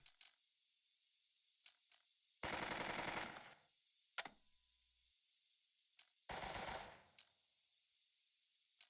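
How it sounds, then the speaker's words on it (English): Machine gun fire in the World War strategy game Burden of Command, heard as two sustained rattling bursts under a second long, with a few sharp isolated clicks and ticks between them over a quiet background. "So we fired at him again with a machine gun by accident"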